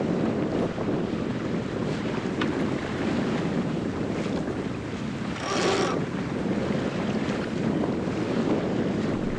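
A small sailboat moves under sail with no one else aboard, with constant loud wind buffeting the microphone over rushing water and waves and a brief swell of splashing midway.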